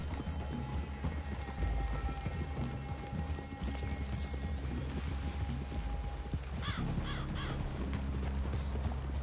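Horses shifting and stamping in a forest clearing, with dense close hoof movement throughout and a brief whinny or snort near the end, over a steady outdoor background.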